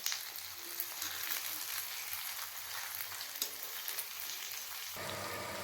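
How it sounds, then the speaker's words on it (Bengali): Eggs fry in oil in a covered karahi for an egg-and-potato curry, giving a steady, fairly quiet sizzle with a sharper burst near the end. "আমার ডিমের এক পাশ হয়ে গেছে, আমি এখন ডিমগুলোকে আরেক পাশে উল্টে দিচ্ছি।"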